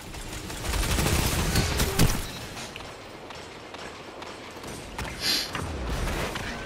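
Rapid submachine gun fire in the video game Destiny 2 during Iron Banner play, dense bursts of shots loud and close through the first two seconds, then quieter clicks and another short burst near the end, no talk.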